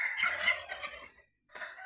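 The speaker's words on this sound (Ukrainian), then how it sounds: "Співають півні, індики кричать." Turkeys gobble in a rapid, warbling burst, pause briefly, then gobble again, fairly close.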